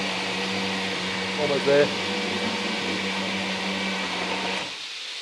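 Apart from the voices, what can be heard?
low-powered blender blending Thai yellow chicken curry paste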